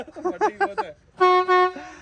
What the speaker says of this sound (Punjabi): ਰੇਲ ਹਾਰਨ ਕਹਿੰਦੇ ਭਰਾਵਾ ਵੱਡੇ ਲਵਾਏ ਆ